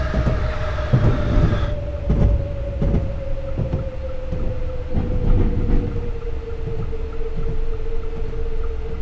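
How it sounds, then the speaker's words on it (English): A Great Western Railway class 166 train pulls in within Train Simulator 2018, with a loud, steady rumble of wheels, rhythmic clacking over the rail joints and a long sustained tone that slowly drops in pitch as it arrives. "Great Western Railway, class 166 arriving"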